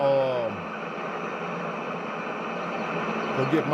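A farm harvester's engine drones steadily at close range with a constant, even rumble and hiss throughout.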